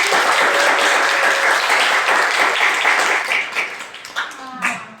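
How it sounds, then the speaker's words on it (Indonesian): Students in a classroom clap together in a brisk, dense round of applause that thins into a few scattered claps and a faint voice at the end. "Dan tepuk tangan untuk kita semua."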